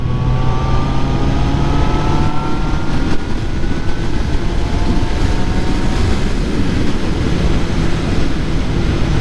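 A QJ Motor SRK 800 four-cylinder roadster motorcycle accelerating, its steady loud engine drone with rising whine continuous throughout, heavy wind rush over it, heard from the rider's position.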